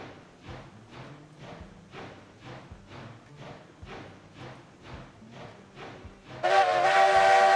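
A steam locomotive in the train game Railroads Online chuffs in a steady, even rhythm, then gives a short, loud whistle blast near the end.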